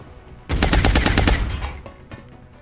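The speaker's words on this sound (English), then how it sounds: "We have a shot from upstairs." A gunshot in XCOM Long War, fired from an upstairs position: a loud, rapid burst of automatic fire lasting about a second, followed by a short decaying tail, with no talk.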